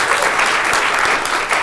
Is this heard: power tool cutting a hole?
no